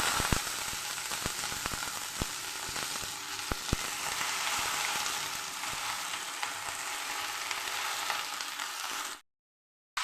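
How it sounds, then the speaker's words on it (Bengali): Kanai greens hiss and sizzle steadily in a little oil in a pan, a loud continuous fry with occasional sharp pops and crackles, running alone for about nine seconds before cutting to silence. "তেলের মধ্যে শাক পাতাটা দিয়ে দিচ্ছি"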